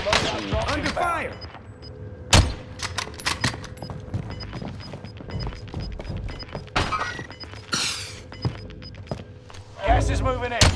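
Video game gunfire in a battle royale match, with sharp bursts of shots and thuds scattered across the scene, loud and close, while voices and game announcer lines sound between the shots.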